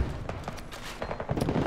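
Rapid gunfire in a video game, shots coming down from above, rattles in a quick string of sharp, evenly spaced cracks, loud and close, with no talking.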